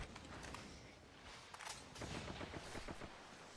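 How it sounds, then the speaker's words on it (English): Grenade blasts and gunfire in a competitive Apex Legends qualifier finals match, a dense continuous barrage of sharp bursts and booms with repeated rapid cracks through the later half, loud and busy throughout. "Nades coming out here."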